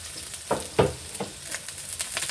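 A large amount of garlic hitting hot oil in a pan for kare-kare with tripe and pata, giving a few bursts of sizzling and a spatula stirring at moderate volume, with no one talking.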